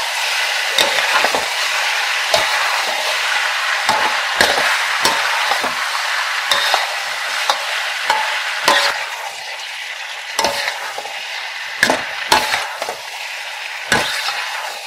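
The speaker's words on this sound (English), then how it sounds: "Key to stir frying is to keep things moving fast so that they don't burn." Chicken for Kung Pao stir-fried in a wok, a steady close sizzle of frying with a busy run of sharp scraping clacks as the utensil keeps the pieces moving, no voices.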